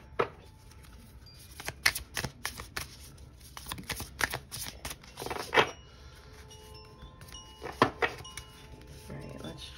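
A tarot card deck is shuffled by hand in repeated quick riffles and flutters, crisp and close, in bursts separated by brief quiet pauses.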